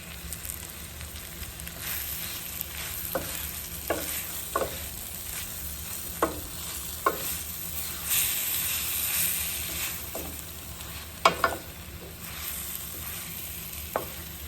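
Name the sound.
pumpkin being stirred into frying saltfish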